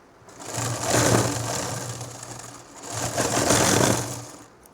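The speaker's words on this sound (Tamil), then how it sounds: "அதுமாதிரி இந்த பக்கம் ஜாயின் இன்னொரு தையல் போட்டு" Sewing machine stitching a nightie seam at home, two close, loud runs of rapid mechanical whirring and rattling separated by a brief slowdown, heard alone without talk.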